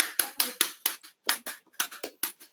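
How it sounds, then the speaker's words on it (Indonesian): A classroom of pupils claps together in a rhythmic pattern, sharp, crisp claps grouped in quick bursts with brief pauses between them, fairly close and distinct. "Kalau masih semangat, coba kita tepuk tangan dulu."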